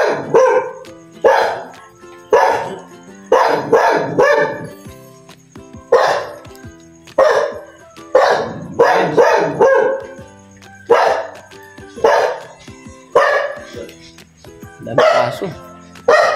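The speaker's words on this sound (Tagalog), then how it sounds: "Daming aso." Several dogs barking loudly and close, bursts of overlapping barks and yips coming in irregular volleys with short pauses between.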